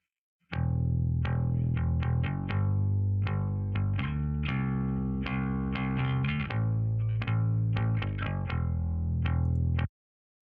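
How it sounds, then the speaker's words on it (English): A bass guitar through the GarageBand Clean Bass Modern Stack amp plays a short line of distinct plucked notes, some ringing and some quick, clean and close with no talking. "I can see it's currently set to Clean Bass Modern Stack"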